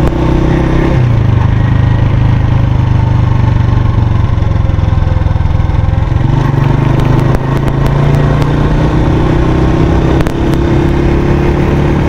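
A Honda CG125 motorcycle drones loud and steady from close by as it is ridden along a road in Kashmir, its engine hum continuous throughout with faint clicks over it.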